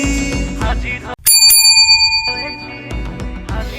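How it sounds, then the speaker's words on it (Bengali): A doorbell rings with a bright electronic ding-dong chime, loud and close, cutting in briefly mid-clip between stretches of indoor talk and household noise. "কে রে আইলো কলিং বেল বাজাইতাছে?"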